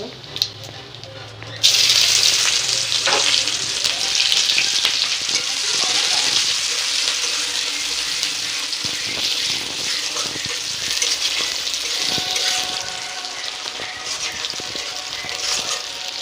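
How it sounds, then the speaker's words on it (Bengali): Potatoes fry with a paste of mustard, poppy seed, green chili, onion and tomato, bursting into a loud, close sizzle after a quieter start and then hissing and crackling steadily with occasional stirring clatter. "আমি পেঁয়াজের সাথে আলুগুলো ভেজে নেব"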